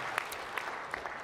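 Church congregation applauds in congratulation, a short, faint patter with a few sharper individual claps standing out.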